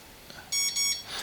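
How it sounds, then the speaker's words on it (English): A GPTOYS F51 camera drone gives a short series of bright electronic beeps, two quick tones followed by a softer chirp, faint and close, with no talk over them. "and we heard those beeps"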